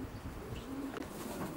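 Racing pigeon cooing inside a loft, a soft low murmur running steadily under a noisy room background with faint chirps and wing movement.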